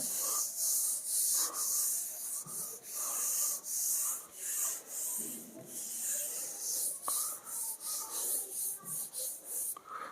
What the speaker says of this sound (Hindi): इसको मिटा देता हूं थोड़ा सा